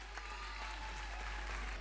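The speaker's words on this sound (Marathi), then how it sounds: "त्यांसाठी जोरात टाळ्या झाल्या पाहिजेत" An audience claps after a kindergarten dance performance at an annual school program, a brief, even wash of applause that sounds somewhat distant and muted.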